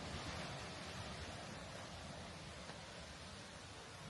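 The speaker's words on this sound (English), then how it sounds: "Really windy out today." Wind blows through the derelict Dalton Mills building as a steady, faint, broad rushing roar that holds without pause and with no one talking.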